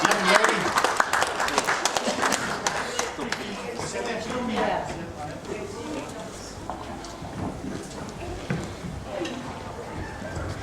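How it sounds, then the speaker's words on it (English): At an 80th birthday party, the crowd gives a round of applause that starts loud and dense, then thins out into scattered claps, with people talking over it. "You can round of applause, please, for this lovely young lady."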